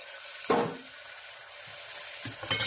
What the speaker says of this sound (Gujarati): દૂધી દાળનું શાકનો વઘાર કર્યો.